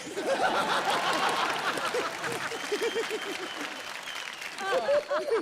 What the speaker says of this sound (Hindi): दोनों सुपरस्टार्स के लिए जोरदार तालियां।